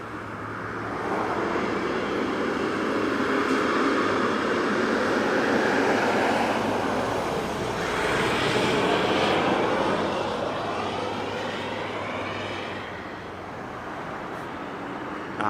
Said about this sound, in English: And that was JetBlue flight JBU 880. And that was coming in from Los Angeles, LAX, Airbus A320.